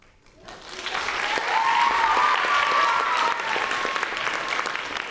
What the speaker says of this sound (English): we need to give him one more round of applause